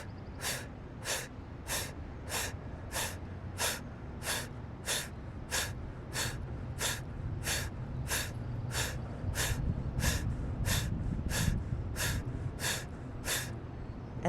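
Rapid rhythmic forceful exhales of breath-of-fire yoga breathing, about twenty evenly spaced sharp nasal puffs roughly twice per second, close and steady over a low background hum.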